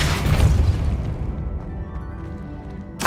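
A Depulso spell impact in Hogwarts Legacy: a loud, booming burst at the start that rumbles and fades over a couple of seconds. Another sharp hit cuts in right at the end.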